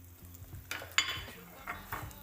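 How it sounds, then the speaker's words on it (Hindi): Cut vermicelli (seviyan) roasting in ghee in a pan, with soft scraping and stirring, light utensil clinks and a faint sizzle for a couple of seconds. "अब हम इसी घी में अपनी सेवियां शामिल करते हैं"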